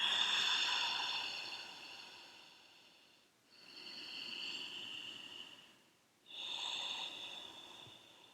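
A slow yoga exhale: soft, airy breath streams out through the mouth in three long passes, each fading before a short pause, close and fairly quiet with no talking.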